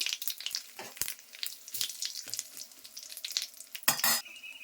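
Dried red chilli, cumin seeds and a bay leaf crackle and spit in hot oil in a home kitchen pan, with sharp scattered pops and stirring scrapes, ending in a loud burst of sizzle near the end.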